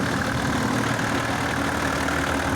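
A motor pump engine at an irrigation pumping station, running at raised revs with a dense, steady mechanical drone close by.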